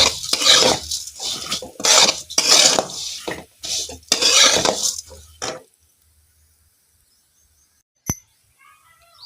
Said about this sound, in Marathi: आपण ना कशा शेवाळ्या लालसर भाजून घ्यायच्या